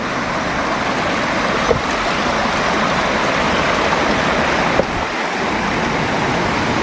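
A river runs downhill alongside a forest hill trail, giving a steady, broad rush of flowing water that stays constant throughout, with a couple of faint knocks and no talking.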